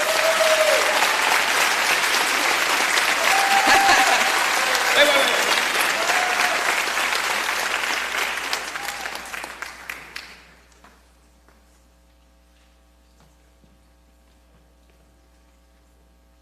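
An audience claps loudly and steadily for scholarship recipients at an education foundation scholarship night, then the applause fades out and cuts off into near silence, with a brief spoken word at the end.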